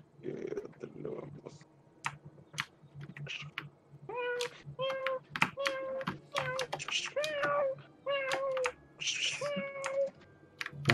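A cat meows repeatedly in short, rising calls, fairly close and clear, interspersed with light clicking and tapping sounds and some background voice.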